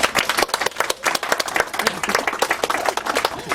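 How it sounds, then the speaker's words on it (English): An audience claps at a Walk of Fame induction ceremony, dense overlapping handclaps sounding loud and close, steady throughout with no talk over it. "Clapping right here."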